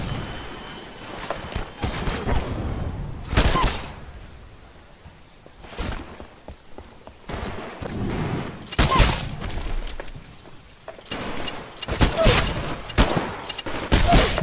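Bursts of gunfire ring out during a live-fire training exercise in the video game Titanfall, with repeated loud volleys and booming shots spread across the stretch and brief quieter gaps between them.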